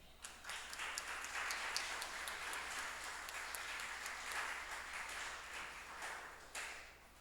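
A church congregation at a Sunday service in Recife claps for the women, a soft, distant round of applause with a few sharper individual claps standing out, steady and fairly faint.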